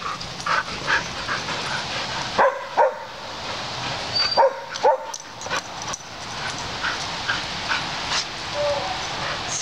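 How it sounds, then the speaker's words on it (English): Dogs playing rough outdoors with a frisbee bark, yip and whimper in short bursts between panting, close and loud, with no clear talking. "And there's Amos barking away"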